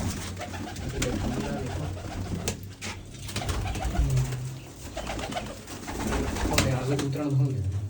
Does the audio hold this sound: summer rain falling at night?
no